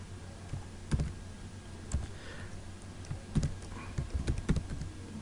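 Keys clack on a computer keyboard while text is typed into Adobe Photoshop CS6, a sparse, irregular run of close taps with short pauses and a quicker cluster toward the end.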